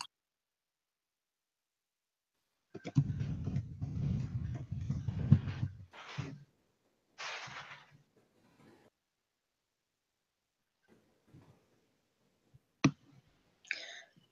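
Typing on a computer keyboard: a dense burst of rapid clicking for a few seconds, then a few short flurries and scattered single keystrokes with long quiet gaps.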